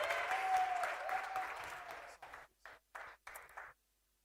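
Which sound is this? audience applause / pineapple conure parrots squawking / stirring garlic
audience applause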